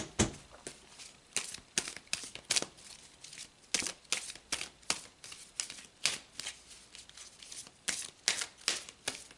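Tarot cards shuffled by hand in a quiet room, a close run of quick riffling, flicking bursts repeating every half second or so, with no talking.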